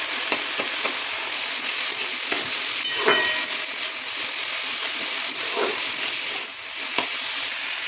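Potatoes fry in hot oil with garlic paste, a steady loud sizzle with spattering crackles and a few sharper scrapes of stirring.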